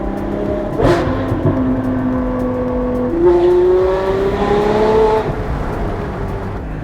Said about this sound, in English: The downshifts now are crazy.